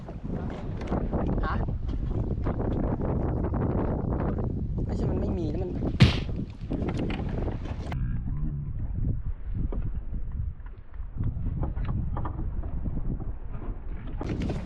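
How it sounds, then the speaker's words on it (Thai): Wind gusts buffet a small fishing boat out at sea, rumbling low and uneven across the microphone, with a sharp knock midway and people talking intermittently over it. "มันมีลม"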